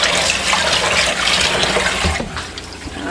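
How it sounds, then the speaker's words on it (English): Cold water gushes loudly from a tap into a pot holding a cup of sushi rice, a steady splashing pour that eases slightly near the end. "we're gonna wash it with some cold water"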